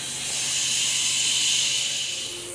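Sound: garlic frying in a pan

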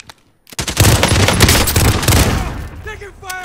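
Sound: gunfire from the video game Call of Duty Warzone

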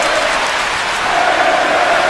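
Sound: wrestling crowd chanting

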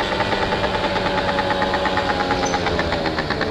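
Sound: 50cc scooter engine revving during a wheelie

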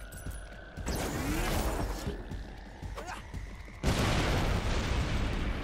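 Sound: explosion in the video game Sunset Overdrive

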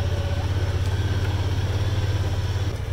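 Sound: tractor engine running

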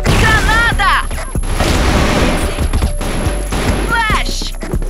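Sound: grenade explosion in video game CrossFire

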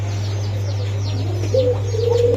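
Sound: pigeons cooing at a pigeon market

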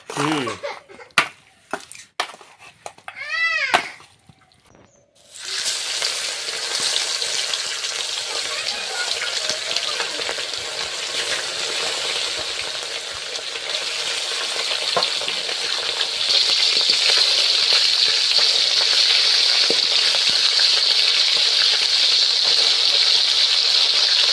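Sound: fish frying in oil

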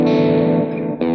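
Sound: electric guitar with overdrive in Overloud TH2

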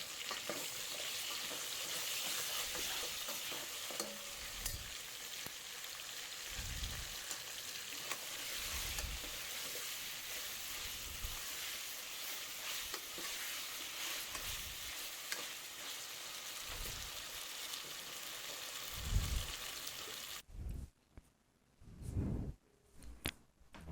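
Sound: ginger frying in a pan for sambar

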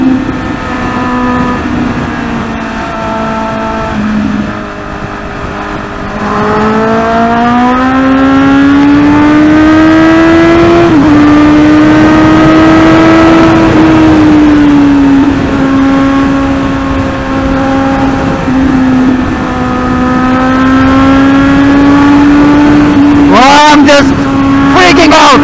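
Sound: Kawasaki Z800 motorcycle exhaust on highway

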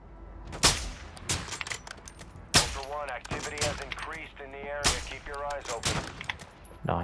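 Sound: gunfire in Call of Duty video game

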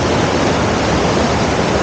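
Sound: waterfalls in Killin, Scotland

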